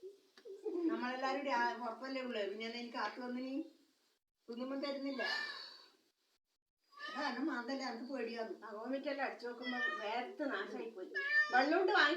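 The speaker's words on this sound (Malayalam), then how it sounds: "ആ പൂച്ച വരുന്നുണ്ട് പൂച്ച" Several drawn-out meows from a cat, close and fairly loud, coming in bursts with brief pauses between them, with no one speaking.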